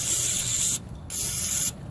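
Cleaner sprays into the starter bolt holes of a 1994–2001 Ford F250/F350 7.3L diesel truck in two close, loud hissing bursts, each under a second, with a short pause between.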